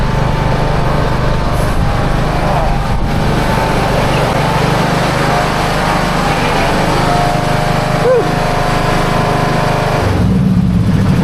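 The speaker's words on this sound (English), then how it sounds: "let me get these mowers put away." Lawn mower engine running steadily at close range, a continuous droning hum that holds for about ten seconds before easing off near the end.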